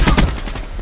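Gunfire in the first-person shooter Call of Duty Black Ops 3, a loud close burst of rapid shots in the opening instant, trailing off into a fading echo.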